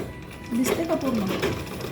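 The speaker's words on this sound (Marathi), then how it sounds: "आता याला आपण वरच्या बाजूनं पण असं स्टिच करून घेऊ, इकडच्या बाजूनं असं सेम." A sewing machine stitches a fabric bag with a soft, rapid mechanical whir, faint and partly masked by someone speaking over it.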